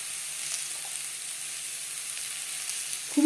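Raw mango pieces frying in a pan with salt for a sweet chutney, a steady even sizzle close up, with a brief clatter at the end.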